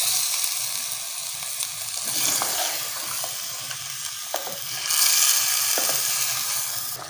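Masala and tomatoes are stirred in a hot handi for biryani, giving a steady loud sizzle and frying hiss with scraping spoon strokes throughout, and no voices.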